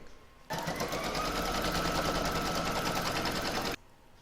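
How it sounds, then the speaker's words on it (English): An embroidery sewing machine stitches the outline of an in-the-hoop pin cushion, a steady, continuous mechanical whir with rapid needle rhythm that starts abruptly, runs close and loud for about three seconds, then stops. "I'm now going to pop that into my machine and stitch round number 1 of the pin cushion."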